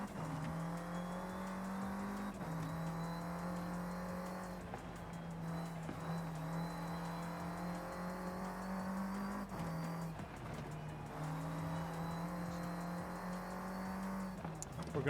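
A race car engine in Forza Horizon 5 drones loud and steady with continuous revving, its pitch dropping sharply at several points as the gears come down, with tire noise underneath.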